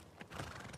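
A horse whinnies briefly in The Last of Us Part II, a short faint neigh with a hint of hoof movement, kept in a garage in the game.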